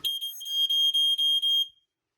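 A Smokey Stover 4002 smoke alarm sounds a rapid series of shrill, piercing test beeps close to the microphone, then cuts off into silence.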